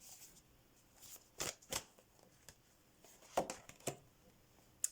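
Deck of playing cards being shuffled in several quick riffling bursts separated by short pauses, moderately loud and close, with no talking.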